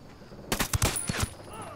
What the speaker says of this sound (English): Now you can take the shot.